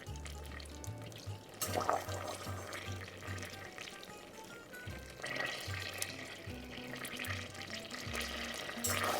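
A roux of butter and flour bubbles and sizzles steadily in a pan, fairly quiet, with soft clinks and faint background sounds.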